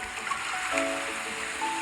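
Gentle river water flowing in a video game as a small boat drifts with the current, a steady soft stream sound with a faint tonal chime, continuous and fairly close, no talking.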